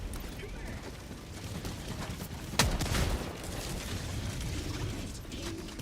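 Mortar strikes land in the shooter game Helldivers 2, a sharp explosive crack followed by a rumbling, rattling tail over ongoing mechanical battle noise, with speech in the background.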